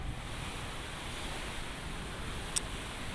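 Steady heavy rain roaring with gusty wind, drumming near a tarpaulin, a constant broadband wash with no voices.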